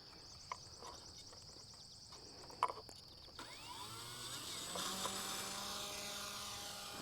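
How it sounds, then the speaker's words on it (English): A micro Scrappy RC model plane takes off, its small electric motor rising from a faint whine to a louder, steady buzzing drone as it climbs away, heard without talk. "Let's take the Scrappy up and see what she can do."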